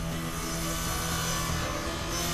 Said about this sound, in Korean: 순식간에 나무를 절단하는 전기톱은 언제나 위협적이다